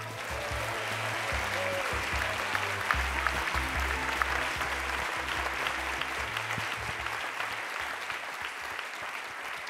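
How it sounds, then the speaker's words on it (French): A large crowd applauding and cheering for a group photo at the Circular Challenge Citeo event, dense continuous clapping throughout with a low music bed underneath. "vous allez nous pousser un immense cri de joie porté par cette foule en délire"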